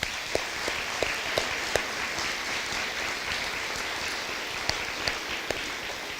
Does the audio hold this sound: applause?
yes